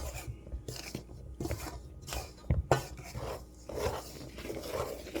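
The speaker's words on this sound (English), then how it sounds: "It takes a bit of stirring to get it all mixed up." A spoon stirs flour into Italian Christmas cookie dough in an old mixing bowl, giving irregular scraping and knocking strokes with a few sharper clacks, close and fairly quiet.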